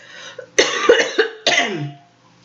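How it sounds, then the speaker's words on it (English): Several loud, harsh coughs burst out close to the microphone, two main fits separated by a short pause, ending in quiet. "I'm sorry about the loud coughing."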